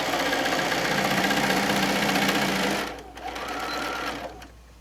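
A sewing machine runs a quarter-inch seam through folded fat quarter fabric, humming and rattling steadily up close. Near the end it slows and pauses, then runs again briefly before stopping.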